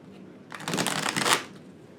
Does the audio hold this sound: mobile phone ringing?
no